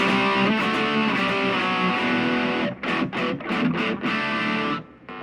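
A Kazuki Relic Strat electric guitar with a modified bridge pickup plays through heavy distortion, with loud sustained chords followed by choppy, rhythmic palm-muted stabs and a short pause near the end.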